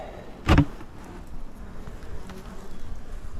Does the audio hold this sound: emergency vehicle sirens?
no